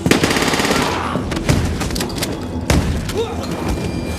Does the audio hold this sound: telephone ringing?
no